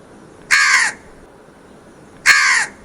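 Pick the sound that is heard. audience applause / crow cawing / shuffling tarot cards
crow cawing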